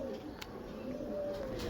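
A breeder's pigeons coo in a low, steady warble, a continuous soft throaty call running close by over faint background hiss, with no talking.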